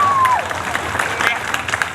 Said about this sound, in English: Oh, that's an applause cue.